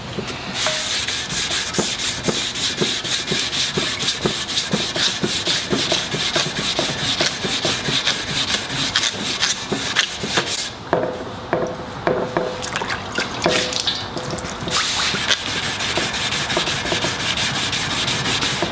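Primer on a car body panel being block-sanded by hand, a fast, even run of rasping back-and-forth strokes, close and continuous, briefly pausing near the middle before the rhythmic scrubbing resumes.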